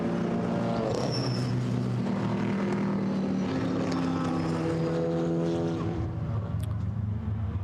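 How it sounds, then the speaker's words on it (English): GT4 race cars rumbling in a pack at low revs behind the safety car at Zandvoort, a continuous throaty engine drone with overlapping tones that rise and fall slightly, loud and steady throughout. "they're running at low revs behind the safety car."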